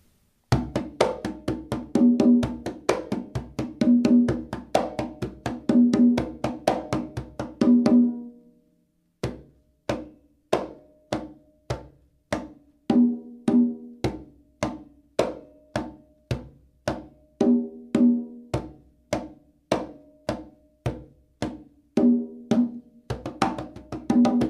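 Conga played in a marcha pattern across several tempos, mixing tones into a steady stream of close, loud hand strikes. A brief pause near the middle precedes a faster sparser section, then the rhythm picks up again without any voices.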